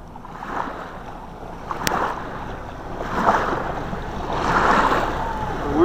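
A Puddlemeister seaplane lands and taxis on step across windy Arrowrock Reservoir, with steady water rush and wind noise swelling gradually, engine drone under it, fairly distant, no talk.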